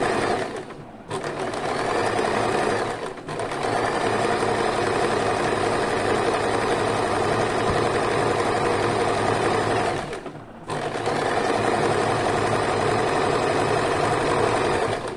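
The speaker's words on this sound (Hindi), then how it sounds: "यहाँ पर लगभग हाफ इंच की दूरी से सिंपली एक स्ट्रेट सिलाई लगा देनी है।" Sewing machine running a long straight seam with the largest stitch length, about half an inch from the edge, to gather frills for a baby frock; a steady, loud motor whir continues with two brief pauses.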